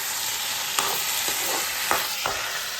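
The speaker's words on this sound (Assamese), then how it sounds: "মই এতিয়া বনাই আছোঁ আলুৰ লগত চিকেন আৰু বিলাহী" Chicken with potatoes and tomatoes sizzles steadily in a pan, with a few clear stirring scrapes standing out over the constant frying hiss.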